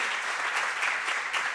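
Audience at an Italian book presentation applauding themselves, a short, dense, steady wash of many hands clapping at close range.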